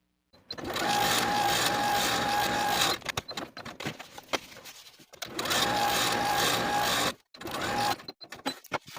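A sewing machine runs stitching ruffle gathering stitches on a puff sleeve ruffle dress, two long steady whirring bursts separated by a stretch of quieter clicks and handling noise.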